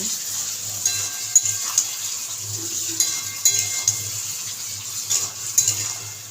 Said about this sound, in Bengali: সিদ্ধ আলুগুলো ছাড়াই দিলাম, মটরশুঁটি ছাড়াই দিলাম, একসঙ্গে কষাই নেব